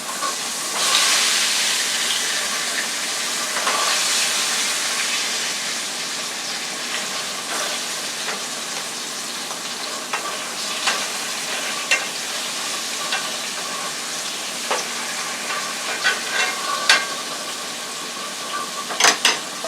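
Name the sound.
pork chops frying and sizzling in a pan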